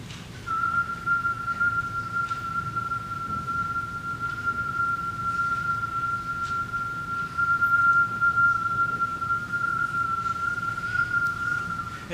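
A single whistle holds one steady, sustained long tone at a constant pitch for about twelve seconds, moderately loud over faint background hiss, with no talking.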